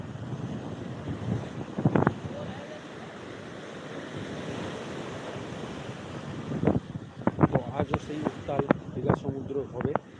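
Night surf rolling in at Digha beach, a steady wash of waves under gusty wind buffeting the microphone, with sharper breaking bursts and crashes clustering toward the end.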